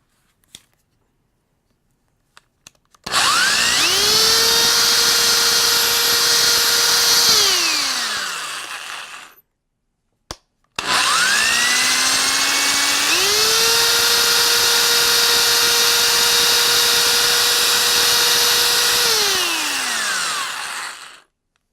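Power drill spinning a polishing attachment against an arcade cabinet bezel during a Nintendo Vs. dual-system restoration; two long, loud whirring runs each spool up to a steady pitch, hold, then wind down, separated by a brief pause.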